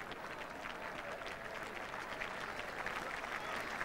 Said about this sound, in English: Greatly appreciated by the Taunton crowd who are watching international cricket for the very first time